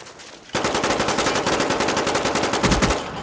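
Sustained automatic gunfire in the video game Black Ops on PS3, a loud rapid rattle that starts abruptly and runs without pause to the end.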